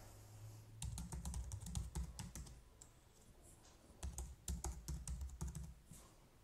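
Fingers type a username and password on a computer keyboard in two quick bursts of soft, rapid key clicks separated by a pause, close and fairly quiet.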